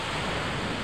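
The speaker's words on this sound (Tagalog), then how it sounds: "malakas po yung alon at malakas po yung hangin" A dense, steady roar of strong surf and wind at a saltwater fishing spot, loud and unbroken, with no pauses or voices.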